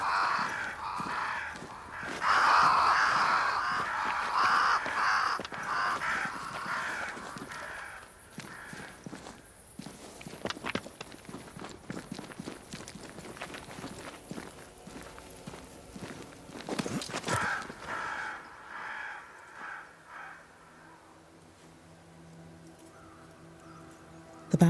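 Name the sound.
crows cawing in the Banishers video game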